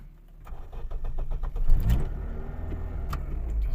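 A Daewoo Lanos engine cranks briefly and catches, then settles into a steady, even idle rumble nearby.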